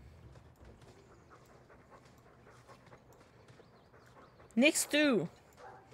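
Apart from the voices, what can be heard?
dogs barking at each other in video game Dragon Age II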